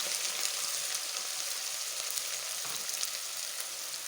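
Onions fry in hot oil for coconut beans, giving a steady, even sizzle with fine crackling throughout, fairly faint and without voices.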